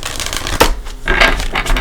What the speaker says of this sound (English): Give it a few shuffles.